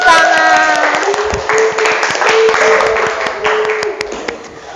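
Students in an 11th-grade vocational high school classroom clap after a group chant. A short spoken phrase opens, then crisp, fairly close handclaps follow in a fast, uneven patter.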